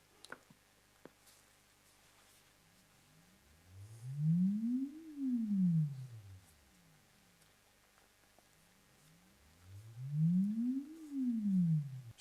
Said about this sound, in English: it will generate some test tones to measure the room